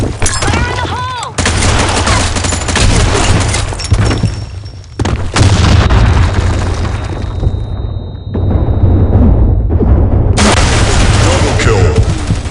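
Grenade blasts and gunfire on the Sand Storm map in the Blackshot EU shooter game: loud, dense booms and rattling bursts that nearly fill the clip, with short drops, and game voice lines mixed in.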